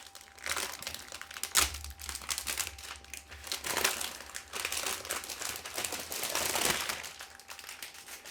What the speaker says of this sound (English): just pretty stock standard cellophane wrap, whatever you want to call it. It's a bit noisy